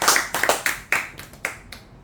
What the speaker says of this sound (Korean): 하나님 앞에 우리 감사의 박수 한번 드리겠습니다